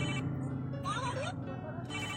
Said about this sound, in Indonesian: Ada, telepon euy.